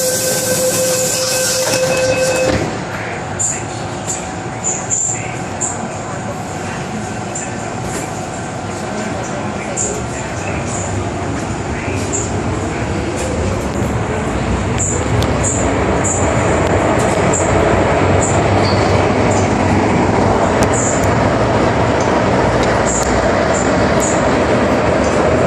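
MTR Island Line metro train, an A-stock set running between Shau Kei Wan and Heng Fa Chuen in Hong Kong, with a loud steady interior rumble and wheel noise, a door chime at the start and a rising whine as it gathers speed.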